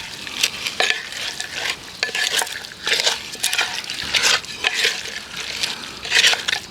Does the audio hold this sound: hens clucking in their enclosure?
no